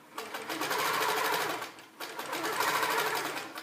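A sewing machine quilts sashing with a Gem Stone Puzzle ruler, running in two fast, steady bursts separated by a brief pause.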